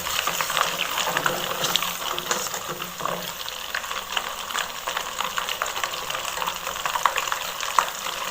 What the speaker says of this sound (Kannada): ಇತ್ತೆ ನಿಗ್ಲೆ ನೆಯ್ಯಿ ಕೊದ್ದಿನ ಕೇನುಡು ಸೌಂಡು